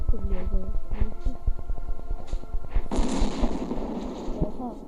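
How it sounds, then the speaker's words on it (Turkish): A loud, booming atomic bomb blast erupts partway through in the video game Be a Soldier Simulator, followed by a sustained rumbling roar, over the game's rapid rhythmic music and sharp percussive pops. "atom bombası patladı yahu."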